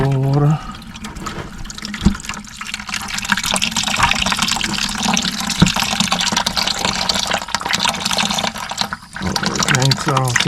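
A water and oil mix draining from the CAT 3406B engine of a 1987 Peterbilt 362 that sat 15 years in a junkyard, a steady close splashing pour with someone talking over it.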